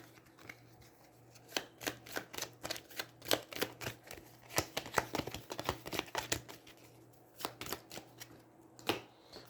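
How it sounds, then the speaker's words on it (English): Playing cards from an Aeons End board game are shuffled back into the deck, giving a run of quick, crisp riffling bursts and flicks in uneven clusters, close and fairly quiet, with no voices. "And I get to shuffle the turn order card back into the deck."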